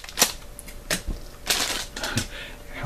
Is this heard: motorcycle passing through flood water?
no